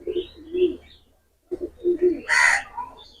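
KTM baby pigeons coo in soft, low repeated bursts, a pause splitting two groups of calls, with a brief sharper chirp rising over the later cooing.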